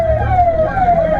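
A fire engine siren wails on a long steady tone as it arrives at a burning village, loud and close over a low engine rumble.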